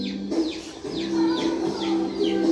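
Chickens cluck and call at close range, with a run of short, loud, rising and falling notes over a steady hum.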